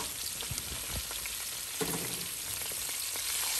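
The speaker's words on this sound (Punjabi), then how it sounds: "ਜਿੰਨੀ ਦੇਰ ਆਪਣਾ ਪਿਆਜ਼ ਭੁੰਨ ਰਿਹਾ" Chopped onions fry in a pan of hot oil for tofu bhurji, giving a steady close hiss with a few soft utensil knocks and scrapes, and no talking.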